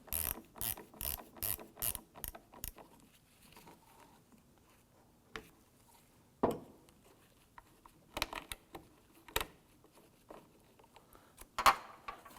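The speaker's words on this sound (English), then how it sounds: "We're going to use our 1/4-inch ratchet with that on there." A 1/4-inch ratchet with a T20 Torx bit loosens a screw on a 2015-2020 Ford F-150 rear park assist camera, with a fast burst of close ratcheting clicks, a pause, then scattered clicks and handling taps.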